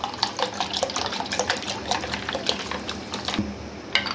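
Soda is poured into a glass of mint lemonade over ice, a continuous close splashing and fizzing stream with small bubbly crackles, loud and steady for about four seconds.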